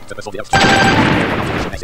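A loud, sudden explosion bursts out in a Japanese space-invader style arcade shooter, a dense, rumbling blast that holds for about a second before fading, with a brief voice just before it.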